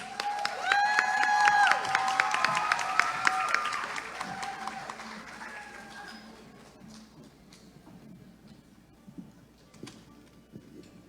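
An audience applauds at a children's and teens' Christmas song festival, a dense steady clapping that swells then gradually thins and fades, with a sung or musical tone briefly audible over it near the start.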